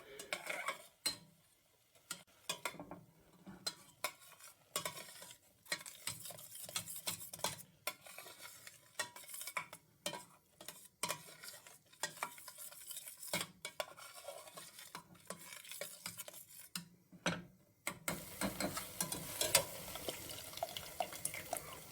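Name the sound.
onions and tomato puree cooking on high heat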